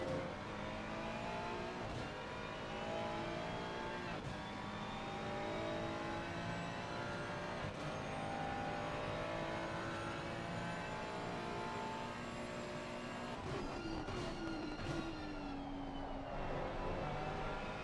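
Race car engines in the Gran Turismo video game, with a steady, loud whining drone and shifting engine tones through a race, pitch rising and falling as cars accelerate and brake, with no talking.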